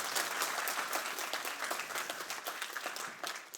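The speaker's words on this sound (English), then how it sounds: "Let's give one more round of applause for him." Conference audience applauding after a hospitality talent talk, steady dense clapping filling the room for a few seconds, loud and continuous with no speech over it.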